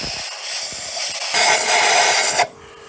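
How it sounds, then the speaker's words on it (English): WD-40 aerosol sprayed onto a turbocharged Barra engine part, two close hissing blasts, the second louder, cutting off sharply. "I'll get some WD-40, I'll give it another, I'll give it a squirt and then another blast"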